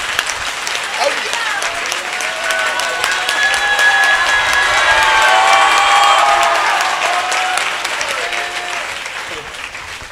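An audience claps at an Independence Day festival gathering, producing sustained, dense applause that swells toward the middle and tapers slightly near the end, with some voices faintly underneath.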